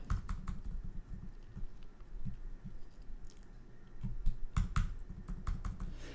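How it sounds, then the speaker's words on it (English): Fingers type on a computer keyboard in irregular bursts of close, crisp key clicks, pausing briefly before a denser flurry near the end, with no talking. "If it looks like I'm just like typing oddly on the keyboard"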